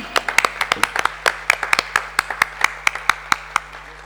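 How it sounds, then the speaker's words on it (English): Sparse audience clapping for guests being called on stage at a yoga award event, distinct individual claps in an uneven rhythm from a modest crowd, fairly near and alone with a low hum underneath. "Keep clapping."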